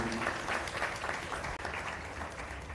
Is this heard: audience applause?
yes